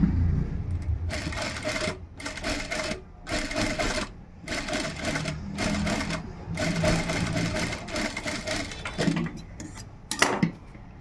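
A sewing machine double-stitches blouse pieces together in repeated bursts of rapid mechanical whirring, each a second or so long, separated by brief pauses, close and steady throughout.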